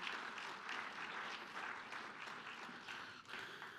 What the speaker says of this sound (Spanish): De un aplauso al Señor por eso.